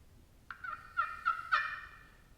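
A slate-over-copper turkey friction call gives four sharp, close yelps in quick succession, each a clear raspy note against a quiet background.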